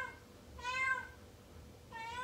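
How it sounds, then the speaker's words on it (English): A house cat gives two drawn-out meows, separated by a short pause, close by but fairly quiet, with no talking over them. "Ah, guys, my cat came back. That's her song of freedom,"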